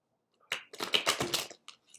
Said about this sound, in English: I'm not going to shuffle a lot.